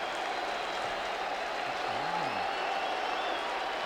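A packed stadium crowd of more than 57,000 Yankee fans applauds at the 1995 ALDS Game 2 between the Mariners and Yankees. The clapping is a dense, even roar that holds steady at full volume throughout.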